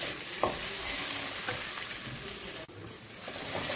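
Spices with Kashmiri chili powder and turmeric fry in a pan for an egg omelette curry, a loud, continuous close sizzle with occasional stirring scrapes and one short clack, no talking.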